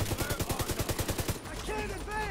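Rapid automatic gunfire in Tom Clancy's The Division 2, a fast regular burst of about a dozen shots lasting over a second, then the shooting stops and faint game sounds and a voice carry on.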